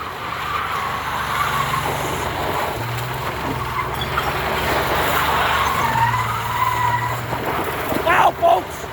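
A damaged Buick Regal is pushed hard in a stunt, its engine roaring with sustained tonal drones while tires skid and scrub, loud and close throughout, with a couple of sharp knocks near the end.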